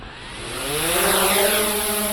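A JJRC X22 drone taking off automatically, its motors whining up into a steady, loud high-pitched buzz that rises in pitch and swells as it lifts, close and alone.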